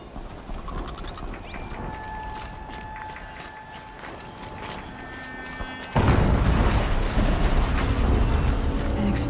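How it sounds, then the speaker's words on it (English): An explosion in the Horizon Zero Dawn video game bursts in after a stretch of mechanical whirring and ringing tones, followed by a loud, sustained rumbling roar. "An explosion."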